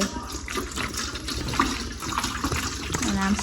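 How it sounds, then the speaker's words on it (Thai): Water poured from a bottle into a cooking pot to cover pork for boiling, a continuous splashing gush running under a person talking throughout. "เราก็เอาน้ำใส่"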